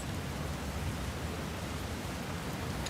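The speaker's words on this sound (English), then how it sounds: "it starts to rain heavily in the space" Heavy rain pours steadily inside an art installation space, a dense, even hiss of downpour with deep low rumble, continuous and close, no voices.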